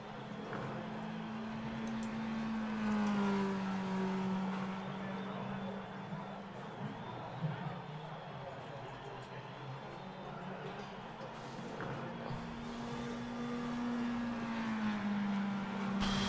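Race car engines in the Automobilista 2 sim racing game at Imola or Kyalami whine and rise and fall in pitch as they rev and shift, fairly quiet and steady with a person talking intermittently over them.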